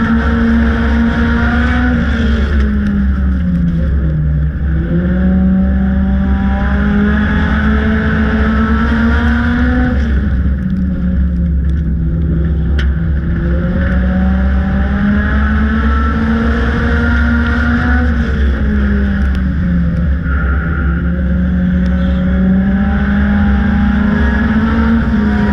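Four-cylinder class race cars run laps on a dirt track, their engines droning loud and close with a steady pitch that rises and falls in slow waves as the cars accelerate and lift through the corners.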